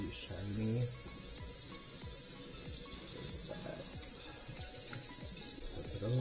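Lukewarm or cold tap water runs steadily over a hairpiece being rinsed in a sink, a constant hiss of flow with light splashing and faint handling, with a voice talking over it.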